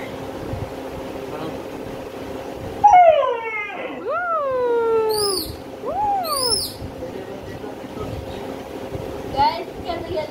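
A small red dog yelps and howls in a string of rising and falling whines, fairly close and loud, with a steady mechanical hum underneath.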